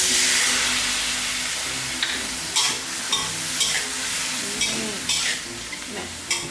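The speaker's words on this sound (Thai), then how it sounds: "เติมน้ำลงไปนิดหน่อยนะคะ" Shrimp and champignon mushrooms sizzle loudly in a pan after a splash of water, with a steady steamy hiss broken by spatula stirs and clinks against the pan.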